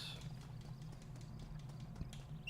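Horse hooves clip-clop in a steady, quick rhythm as a horse moves in Red Dead Redemption multiplayer, fairly quiet and unaccompanied by voices, with a low game ambience humming beneath the footfalls.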